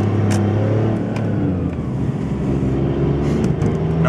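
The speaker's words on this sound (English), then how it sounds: "turbo spooling pretty easily." A VW Lupo 3L with a free-flow exhaust drives along with its turbo spooling, giving a steady engine drone and road rumble heard from inside the car, with no talking.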